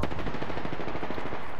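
Rapid automatic gunfire rattles in a shooter video game, a dense, close burst of shots firing continuously for under two seconds.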